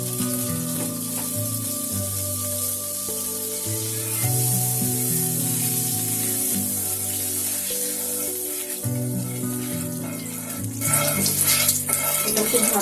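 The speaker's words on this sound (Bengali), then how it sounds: "এবার আমি দিয়ে দেবো এর মধ্যে কিছু বাটার।" Butter melting into hot oil in a pan over medium heat for French toast, a continuous bright sizzle that swells louder near the end, heard alongside steady tonal background music.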